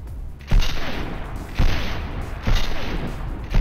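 Heavy booming gunshots from the video game Mirror's Edge fire at a steady pace, four loud close blasts roughly a second apart, each trailing off into a rumbling echo with no talking.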